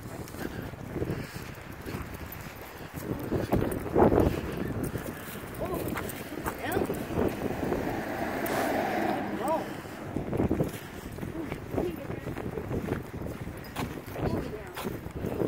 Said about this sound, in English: What do you think of the wind, Daisy?